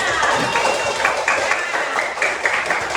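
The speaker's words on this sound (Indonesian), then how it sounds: "Tepuk tangan dulu untuk semua." A classroom of children claps together in a fairly loud, rhythmic burst, with some crowd murmur mixed in and the clapping pulsing in short, regular beats.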